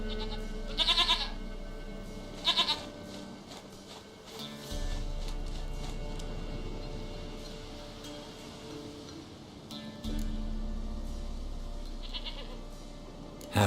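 A goat bleating in The Witcher 3: two short wavering bleats close together near the start, another a few seconds later, then a lone bleat near the end, over a steady low ambient hum.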